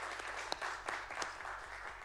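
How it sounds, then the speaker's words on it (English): Applause from a school board meeting audience for the Lancaster Middle School Band, a soft, moderately dense patter of clapping in a room, heard from a distance with a few sharper individual claps. "Lancaster Middle School Band, we want to give them a round of applause right now."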